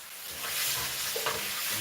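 Steady hiss and crackle of meat frying in a pan over a fire while steak sandwiches are made, with a brief scrape of a spoon partway through and no voices.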